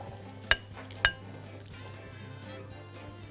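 Boiled eggs with salt and pepper mashed in a bowl, two sharp clinks of utensil on the dish followed by soft squashing and scraping, close and quiet, no talking.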